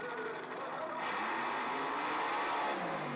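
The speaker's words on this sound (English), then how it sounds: "Here comes Mark Osteen and Dad's Dirty Bird, another rear-engine machine." A rear-engine drag racing car makes a run down the strip, its engine a loud, distant roaring whine that swells and shifts in pitch over about three seconds.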